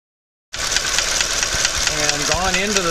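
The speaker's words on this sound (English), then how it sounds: "we could get into the valve train while the engine's running" After a moment of silence, a rapid mechanical clatter of a Mercedes-Benz engine's valve train ticks close up, heard through an electronic stethoscope inside the valve cover while running, with a voice talking underneath.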